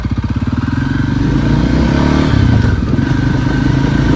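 A VOGE LX300GY Loncin motorcycle ridden at high speed on a test ride, its engine droning loud and close with a steady pulsing roar and wind rush, no talk.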